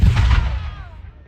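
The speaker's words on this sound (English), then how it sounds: "A couple things you can't miss out on here are the cannon firing" Historic cannon firing in a Nova Scotia town: a single loud boom at the start, followed by a deep rumbling decay that fades out over about a second.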